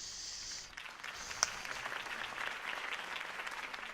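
Crowd applause in a large hall after a mayoral campaign speech, a broad steady clatter of many hands that starts abruptly and keeps going, rising slightly and sustained without any voices over it.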